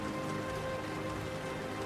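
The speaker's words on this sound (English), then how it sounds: "The sound of rain persisted as the only sign of life and normalcy." Rain falling in a ruined city in the video game Snowbreak, a dense, steady patter of drops striking surfaces that stays uniform and loud throughout, with no voices.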